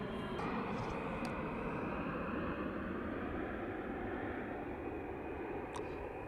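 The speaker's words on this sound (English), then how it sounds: "one of our refuelers just flew right over me" An Air Force refueling aircraft passes low overhead near the end of an air base runway, a loud, continuous broadband engine roar that holds steady throughout.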